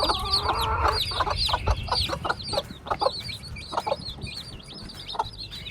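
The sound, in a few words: chickens clucking, hens with chicks in yard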